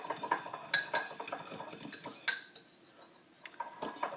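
A spoon stirs a Vega protein powder mixture in a cup or glass, clinking sharply against the sides in an irregular rhythm, with a few louder taps, close up and with no talking.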